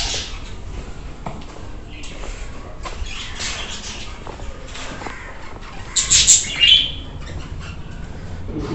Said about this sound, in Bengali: এই পাশে আরো পাখি।